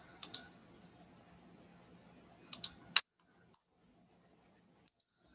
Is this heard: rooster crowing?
no